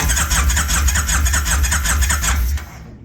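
A 1999 Kawasaki Vulcan 1500 motorcycle, once submerged up to its headlights, cranks over with a steady, rapid, close-up churning whir that runs for about two and a half seconds before cutting off.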